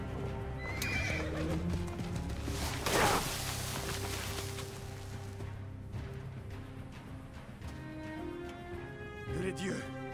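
A horse whinnies loudly amid a busy Assassin's Creed Origins game soundscape, with hooves clip-clopping, a sudden whoosh and a voice speaking over steady background music.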